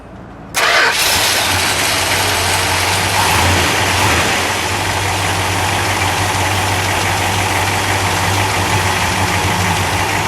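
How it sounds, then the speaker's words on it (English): A 1964 Plymouth Sport Fury convertible with a 426 Street Wedge V8 cranks and fires after a brief pause, then settles into a loud, steady, close-up idle with a deep rumbling throb that continues to the end. "let's fire it up, shall we? Sure. We'll let it idle"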